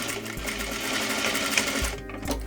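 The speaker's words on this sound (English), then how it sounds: "Sew your right waist facing and back waist facing together along the side seam" A sewing machine runs steadily up close, stitching trouser waist facings together along the side seam with a continuous whirring hum that briefly dips near the end.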